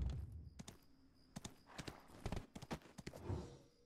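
A horse's hooves clip-clopping in the Black Desert video game, sharp distinct knocks in an uneven trotting rhythm, close and fairly quiet, with a soft snort near the end.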